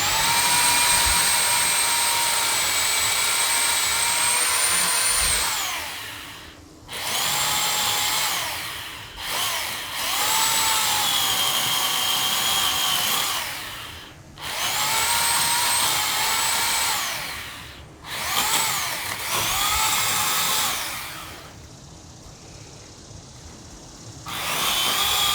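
A chainsaw cuts through a tree during a full tree removal, its loud, steady whine running in long bursts that drop out briefly several times as the saw pauses or binds in the cut.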